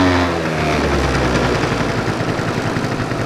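On choke, a two-stroke engine revs up and holds a loud, raspy, throbbing drone at close range without a break.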